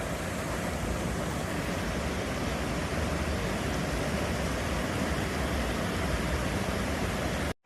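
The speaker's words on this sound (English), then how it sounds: "That is some pretty waterfalls, folks." A waterfall on the Abrams Falls trail roars as a steady, loud broadband rush, unbroken and close, with no voices, cutting off abruptly at the end.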